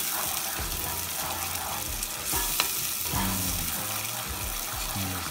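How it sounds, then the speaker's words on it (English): Sauce for Mexican-style mahi mahi simmers and sizzles in a pan with steady frying crackle and scraping stirs, close and continuous. "simmer it down for maybe another 2-3 minutes to make some nice dressing or sauce for our fish"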